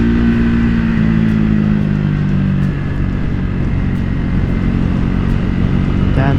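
A Triumph Speed 400 motorcycle engine drones steadily while riding, a loud close mid-pitched hum with rushing wind noise and a slight dip in revs partway through, no speech heard.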